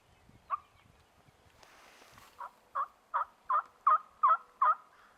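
Wild turkeys gobbling in South Dakota woods about 75 yards off: a single gobble, a short lull, then a run of about seven loud, evenly spaced gobbles, each a rattling burst, fairly near and with no talk.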